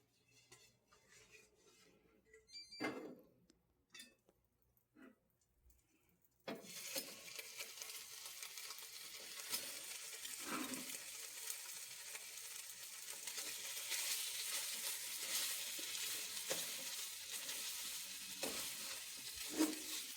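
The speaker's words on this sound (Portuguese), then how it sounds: "Aí eu coloco só uma pincelada aqui de manteiga. Pra dourar esse fígado." Liver browning in a brushed film of butter in a pan, a soft steady sizzle that swells after a few quiet clinks and scrapes of utensils, with occasional stirring noises on top.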